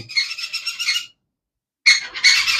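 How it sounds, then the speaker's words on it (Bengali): A black-eyed cockatiel squawks in harsh, raspy bursts close by, one long call, a pause of silence, then two more grating screeches. "কালো চোখের একটা সুপার কোয়ালিটির কোকাটেল পাখি দেখেন"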